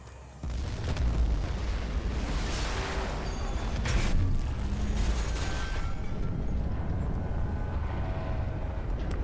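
A ship explodes in the video game Battlefield 4, opening with a sudden deep boom that swells into a sustained roaring rumble and crackling debris for several seconds.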